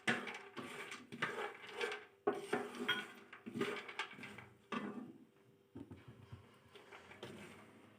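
Pistachios being fried in a pan for homemade winter panjiri with desi ghee, giving a run of close, busy metallic scraping and clattering of a spoon against the pan, in bursts with short pauses.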